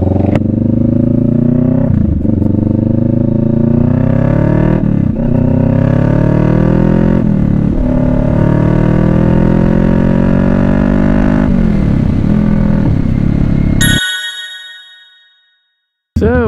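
Kawasaki Vulcan S motorcycle riding on the road, a loud engine note rising and falling through gear changes, close and continuous before cutting out abruptly.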